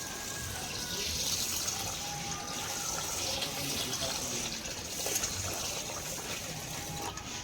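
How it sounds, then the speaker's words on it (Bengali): Biryani rice being washed with water, with a steady running-water rush like a tap filling a bowl or sink throughout, moderately quiet and with no talk. "এবার ওটা আমি ধুয়ে নেব একটু জল দিয়ে নিই প্রথমে"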